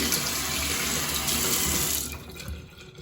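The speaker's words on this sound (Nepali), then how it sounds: "ब्रस चाहिँ जहिले पनि यसो तल यस्तो तल गरेर पखाल्नुपर्छ है" Tap water runs in a steady stream for about two seconds as a makeup brush is rinsed, then cuts off, leaving a few faint drips and rustles.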